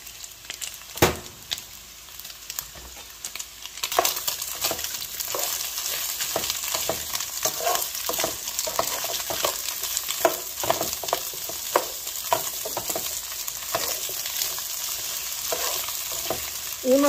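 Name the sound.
chicken and onion frying in a pan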